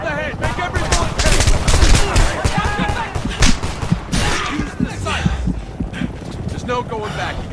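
Gunfire in the shooter video game Homefront during a resistance firefight, rapid bursts of automatic weapons and sharp single shots crowding together, loud and close, with shouting voices mixed in.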